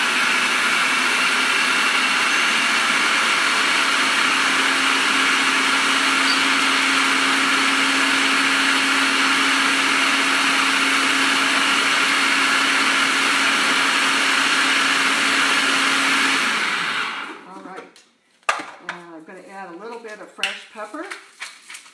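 A food processor whirs loudly and steadily for about sixteen seconds while blending a smooth vegan topping sauce, then cuts off, and a person talks in the quieter moments after.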